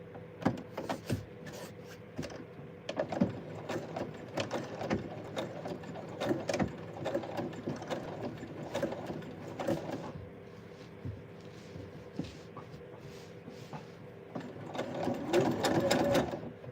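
A sewing machine stitches satin in slow, uneven bursts of rapid mechanical ticking, close up, pausing and restarting, with a faster, louder run near the end.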